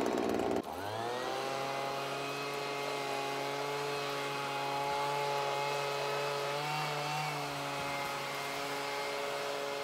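A two-stroke engine, likely a chainsaw or similar small farm engine, fires up after a brief start and runs loud and close for nearly ten seconds, its tone dipping and wavering as it sputters like a flooded motor under throttle.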